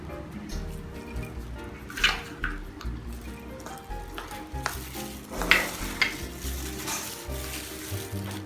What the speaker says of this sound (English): we need to mix all of the ingredients for the sauce